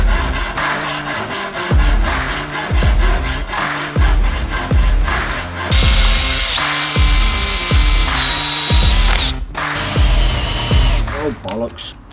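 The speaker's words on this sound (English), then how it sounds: "I drilled through the table." A drill bores through a table while van deadlocks are fitted, with repeated loud bursts of grinding interspersed by knocks and a steady high whine midway, and a person talks between passes.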